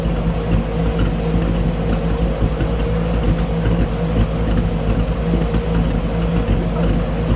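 A 1955 Chevrolet Bel Air convertible's engine idles steadily, a smooth continuous low rumble held close and fairly loud with no other sounds over it.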